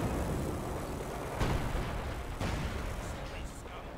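Artillery cannon fire in the Company of Heroes 2 strategy game, with booming blasts at about 1.4 and 2.4 seconds over constant battlefield rumble.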